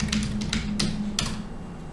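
Typing on a computer keyboard comes through as a few quick, light key clicks over a steady low hum, fairly close and moderately quiet.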